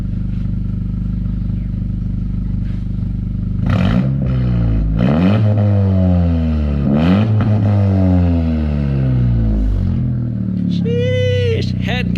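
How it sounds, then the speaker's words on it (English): A 10th-generation Honda Civic Si fitted with a PRL front pipe revs several times over a steady idle, the engine note climbing and falling in loud, close sweeps, with a brief voice near the end. "here's how it sounds, and we're gonna give it a little rev"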